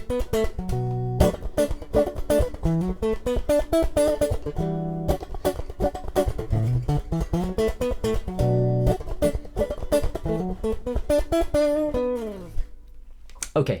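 An electric guitar plays a funk groove, tight rhythmic strums and choppy muted chord stabs in a steady danceable pattern, close and clear with no speech, ending on a ringing chord.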